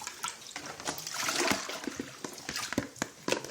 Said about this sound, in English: So I have 2 cans of quail eggs. Drain it, rinse,